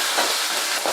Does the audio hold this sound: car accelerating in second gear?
no